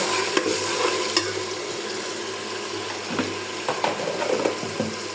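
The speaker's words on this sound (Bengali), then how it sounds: "এখন সবটা উপকরণ ভালো করে মিক্স করে নেব।" Spices and ginger paste fry in a pan while a spoon stirs, giving a soft steady sizzle broken by a few scraping clicks, close and without talk.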